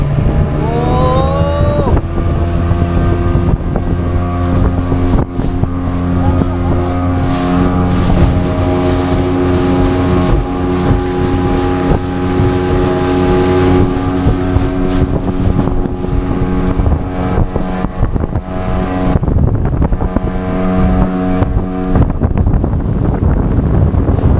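A crowded motorboat picks up speed on the Massanjore Dam reservoir in Jharkhand, its engine droning loud and steady while wind buffets the microphone and water rushes past the hull, with no talk.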